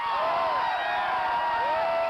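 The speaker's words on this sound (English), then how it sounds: "They cheered for the football teams." A large stadium crowd at a 1986 Canadian college football semifinal, Calgary at Edmonton, roars and whoops continuously, distant and dense with scattered shouts and a high whistle-like tone riding over the sustained cheer.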